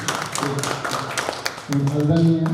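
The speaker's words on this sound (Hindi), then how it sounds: "तालियों के साथ हम आपका अभिनंदन करते हैं" Scattered clapping at a New Year gathering of a poetry society, a light burst of several hands tapping unevenly for over a second before a voice takes over.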